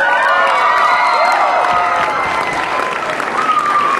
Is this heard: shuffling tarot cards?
no